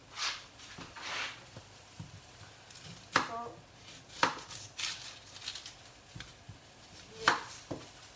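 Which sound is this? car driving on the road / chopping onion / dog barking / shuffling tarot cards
chopping onion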